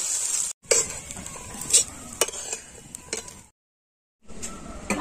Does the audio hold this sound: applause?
no